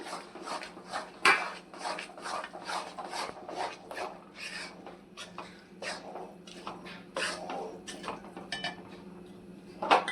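Urad flour being roasted and stirred in a pan over low heat, a steady series of close scraping and rasping strokes with occasional sharper clinks of the spoon against the pan, no speech.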